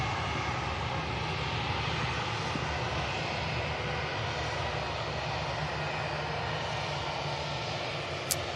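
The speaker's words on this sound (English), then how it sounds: "Virgin Atlantic positioning out to London Heathrow is on the move. Another A350 1000." A Virgin Atlantic Airbus A350-1000 at Manchester Airport gives off a loud, steady engine roar that holds at full strength throughout, with no voices over it.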